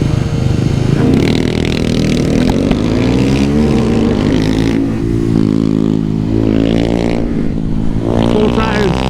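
Honda Grom mini motorcycles racing laps at Bushnell, small engines revving and droning loudly up and down through gear changes, with rising and falling whines as bikes pass close, overlapping with voices.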